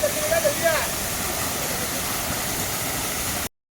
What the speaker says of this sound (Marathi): असे छोटे छोटे वॉटरफॉल तुम्हाला इथे दिसतील.